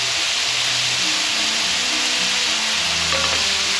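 Sausage sizzles in a buttered pan, a loud, continuous close-up hiss and crackle of frying fat that holds steady from start to finish.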